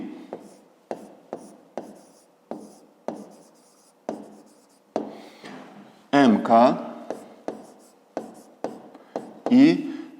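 Pen writing on paper while working a fifth-grade geometry exercise: short, close scratching strokes in bursts with pauses, joined midway and at the end by a few brief louder rustles.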